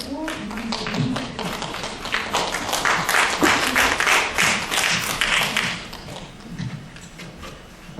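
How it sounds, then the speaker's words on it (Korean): An audience claps to welcome a Buddhist monk taking the stage at an academic conference: a dense burst of applause that swells over about six seconds, then thins out and fades. "청중 여러분 박수로 스님 모시고"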